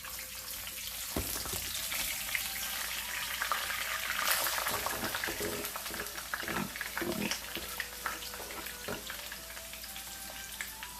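Cubed onion sautés in a pan with pandan leaves and cardamom, giving a steady close sizzle with a few soft clatters of stirring scattered through.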